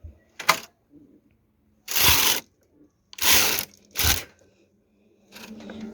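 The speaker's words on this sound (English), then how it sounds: "So I'm going to continue knitting." A knitting machine working a tuck pattern: a few separate harsh rasping sweeps as the carriage is pushed across the needle bed, each lasting about half a second, with quiet gaps and faint clicks between passes.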